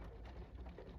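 Steady rain with dense patter of raindrops falling on a surface, a continuous soft wash of close drops with no voices.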